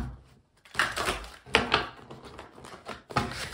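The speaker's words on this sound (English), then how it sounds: "This deck, this one deck, this good tarot can be difficult. Fussy to shuffle." Tarot cards are shuffled in uneven bursts of papery riffling and tapping, close and moderately loud, with short pauses between handfuls.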